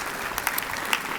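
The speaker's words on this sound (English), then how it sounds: "Round of applause for Candace." Audience applause at a community breakfast event, a brief burst of steady crowd clapping heard at moderate distance, with no talking over it.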